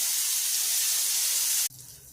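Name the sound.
dried fish frying in hot oil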